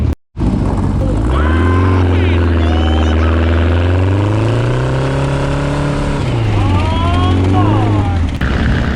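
Cars rip fast down a dirt trail, their engines loud and close, revving with pitch that swells, dips and climbs again, while voices talk over the roar.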